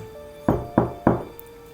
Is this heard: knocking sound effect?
yes